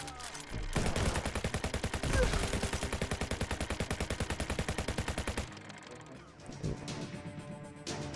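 Rapid bursts of video game gunfire from Gah!, a loud steady rattle of automatic shots lasting several seconds before cutting off, followed by scattered quieter impacts and mechanical clatter.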